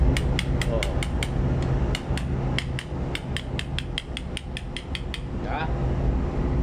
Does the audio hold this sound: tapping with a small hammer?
yes